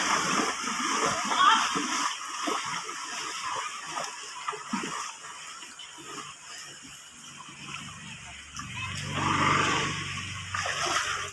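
Water splashing and sloshing in a village stream, steady and moderately loud, with faint voices in the background and a rising surge of splashes near the end.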